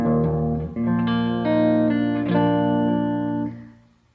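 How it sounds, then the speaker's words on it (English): A dry electric guitar with no effects plays a short run of sustained notes and chords, loud and close, each note changing cleanly before ringing down near the end. "But dry guitar sounds like this."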